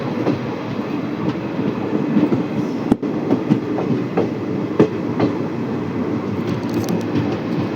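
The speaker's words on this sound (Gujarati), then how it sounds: "આ 5/9/561 જે ટ્રેન છે રાજકોટ પોરબંદર પેસેન્જર" Rajkot–Porbandar passenger train pulling into Virpur station on Indian Railways, a loud, steady rumble with rhythmic clickety-clack from the wheels and a brief clank midway.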